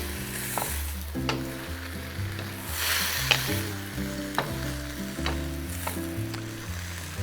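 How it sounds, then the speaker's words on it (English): Bell peppers sizzle in a stir-fry pan, a steady moderate hiss broken by sharp clicks and scrapes of stirring at irregular intervals, with a low tonal hum underneath throughout. "So as the peppers get cooked, they get softer and their juices start to come out"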